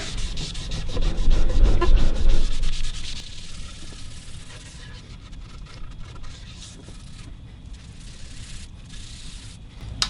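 Cloth rag rubbing leather dye briskly into a wooden guitar body for a red and yellow sunburst, loud scrubbing strokes at first, then lighter, quieter wiping that continues steadily.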